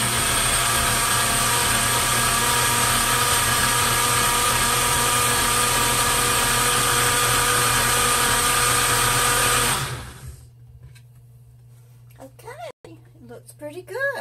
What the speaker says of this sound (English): So cover your ears,